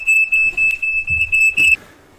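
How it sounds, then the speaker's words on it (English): A household smoke alarm going off, a loud, shrill, piercing tone sounding in steady bursts close by, set off by dense vape clouds indoors, then cutting out abruptly. "My smoke alarm has just gone off for the first time ever during a vape review."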